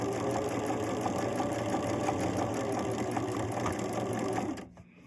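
A sewing machine runs steadily while stitching quilt block pieces for a sawtooth block, a continuous close mechanical whir with a buzzing hum that stops abruptly near the end.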